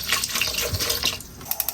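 Tap water runs steadily over blanched chicken feet and chicken heads being rinsed in a sink, a continuous close splashing hiss, with a few sharper splashes and clatters near the end as the pieces are handled.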